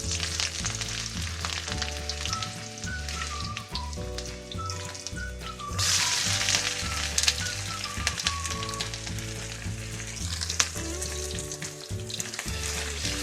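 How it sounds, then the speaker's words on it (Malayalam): Mustard seeds, garlic and ginger fry in hot sunflower oil for a papaya pickle, giving a steady crackling sizzle with sharp pops throughout, under light background music. "ഇനി നമുക്കിതിലേക്ക് കടുകിടാം ഇനി ഇതിലേക്ക് ആ വെളുത്തുള്ളി ഇഞ്ചി"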